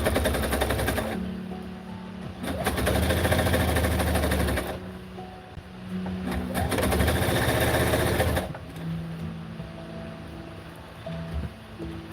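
Sewing machine stitching a chiffon duster, its rapid mechanical whirring running in two long bursts of several seconds each, separated by short pauses, close and fairly loud with a quieter hum between runs.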